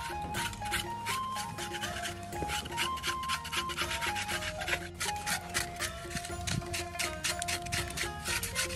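A seared pork head is scraped and cleaned, giving a run of rapid, rhythmic rasping strokes close up, steady and continuous over a background of soft tonal music.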